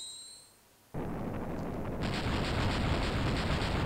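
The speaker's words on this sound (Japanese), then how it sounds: "これだけのさ爆発が起こるなんて確実にテロリストだよな" A blast from a magic ball set against a stone wall in Dragon Quest III: a sudden loud boom erupts after a brief quiet, then a sustained roaring rumble rolls on and swells without letting up.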